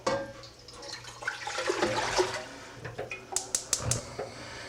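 Water runs and splashes steadily into a pot for a few seconds, followed by several sharp metallic clinks.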